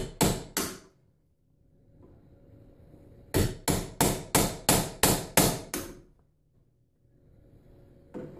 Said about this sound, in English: Gotta give it a couple of whacks at the end over here.